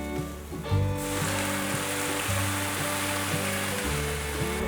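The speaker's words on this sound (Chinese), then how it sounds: "现在加入过滤水。" Filtered water poured into a hot wok of stir-fried eggplant and celery, setting off a sudden loud rush of sizzling and bubbling that carries on steadily and close up, with background music underneath.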